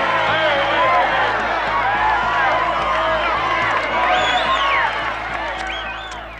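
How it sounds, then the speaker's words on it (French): A large wrestling crowd roars and cheers wildly after a victory, a loud sustained din with whoops and shouts. Someone talks over it, and the noise eases slightly toward the end. "Écoutez, la foule est positivement en délire."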